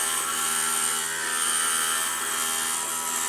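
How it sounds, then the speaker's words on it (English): MiniMaxi glass grinder smoothing the edges of mosaic glass, a steady high whine with a faint grinding hiss, held continuous and close with no talk. "So you don't want the grinder to actually do the heavy lifting with shaping."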